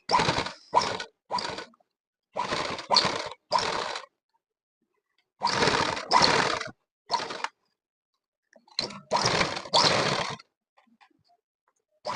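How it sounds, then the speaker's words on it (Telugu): A sewing machine top-stitching a school uniform shirt runs in short, close bursts of rapid stitching, stopping and starting about a dozen times with brief silent pauses between. "ఇప్పుడు ఒక చివరి నుండి స్టిచ్ వేసుకుంటూ వచ్చేస్తాను పైనుండి"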